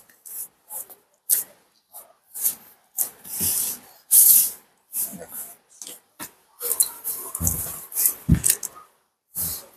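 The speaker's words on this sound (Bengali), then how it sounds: "দেখুন একটা শাড়ি আপনাদের খুলছি" A hand-painted Bishnupuri silk saree with Jamini Roy-style artwork being unfolded produces repeated short hissing rustles of silk, close and crisp, in separate bursts with pauses between.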